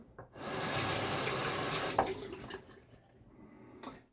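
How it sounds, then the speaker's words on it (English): Bathroom faucet running during a wet shave, water gushing steadily into the sink for about two seconds, then tapering and splashing as the flow changes, with a brief clink and a final short burst at the end. "Sorry about the noise of the faucet there."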